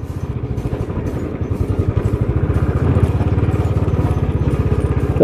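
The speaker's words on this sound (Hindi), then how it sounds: "कंट्रोल हो रही है भाई बाइक" A motorcycle rides offroad over stones and mud near water, its engine chugging in a steady, loud, close rhythmic pulse throughout with some clatter.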